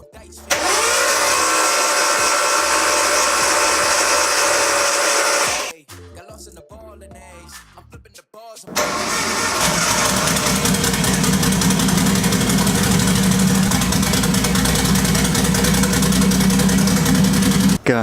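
A big-turbo RB engine in an offroad Nissan 240SX cranks and catches at its first start, then holds a loud, rough, rumbling idle. It stumbles and dips briefly midway before roaring back to a steady, throbbing idle up close.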